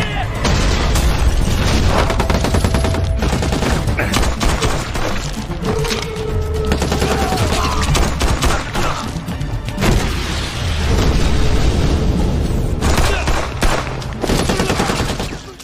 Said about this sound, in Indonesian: Kemudian terjadi saling tembak.